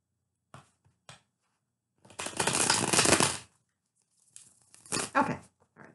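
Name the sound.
shuffling tarot cards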